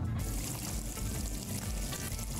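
Water pouring in a video game about serving beer, a continuous, fairly loud stream of liquid filling a container, steady and unbroken with no talk over it.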